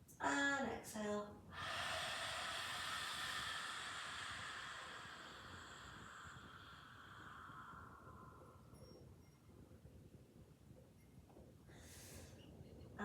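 A slow, breathy exhale during a yoga class fades gradually over several seconds after a brief instructor's voice, followed by quiet room tone and a faint second breath near the end.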